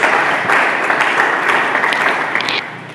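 A church congregation applauding, dense sustained clapping from many hands that fills the space and tapers slightly at the end.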